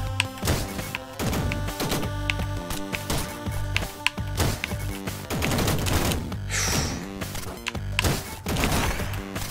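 Rapid gunfire from the video game Downwell crackles in dense bursts over constant busy game music and effects, with no voices.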